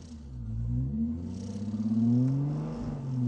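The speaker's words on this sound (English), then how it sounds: "What was that noise? Whole car's vibrating." A deep, steady car engine rumble in The Grand Tour video game, with a pulsing, shuddering vibration that swells and wobbles, close and continuous throughout.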